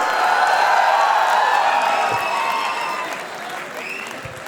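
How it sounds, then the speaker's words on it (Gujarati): Audience at a live comedy show in Ahmedabad applauding loudly, sustained clapping and cheering that gradually thins out, with a few scattered shouts near the end. "તાળીઓ થઈ જાય"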